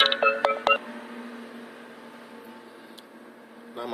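A phone gives a short burst of stepped electronic tones as a call comes in, loud and close, then a faint steady hum fills the rest and a brief chirp returns at the end.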